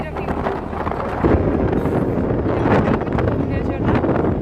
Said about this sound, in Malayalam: അയ്യോ ഭയങ്കര കാറ്റ്.